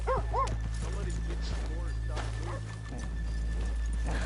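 Horses in Red Dead Redemption 2 snort and shuffle faintly on a town street, mixed under steady low ambient hum and game background noise with a few soft whinny-like tones.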